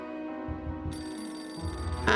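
A telephone ringing in the video game Beholder 2, a bright bell-like ring that starts partway through over a soft musical background, with a sharper chime near the end.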